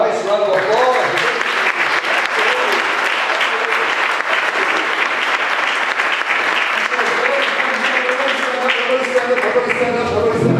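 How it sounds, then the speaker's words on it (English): An audience at a spring business symposium claps in sustained, dense applause, loud and even throughout, with a few voices faintly mixed into the clapping. "give the organization that put all this together a nice round of applause"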